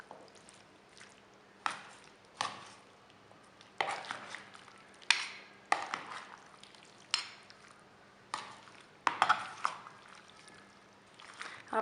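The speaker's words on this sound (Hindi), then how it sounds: "अब तमाम चीज़ों को हमने मिक्स कर लेना है।" Fruit chaat ingredients are tossed and mixed together in a bowl, giving a series of soft, wet scraping and stirring strokes at irregular intervals, fairly quiet and close.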